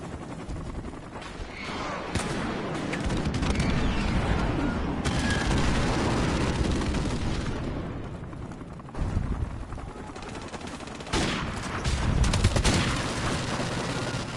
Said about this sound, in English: No denying this airstrike though.